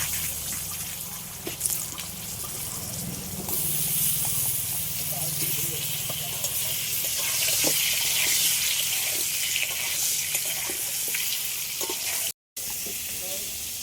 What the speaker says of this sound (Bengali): আলুটা ভাজা হতে লাগুক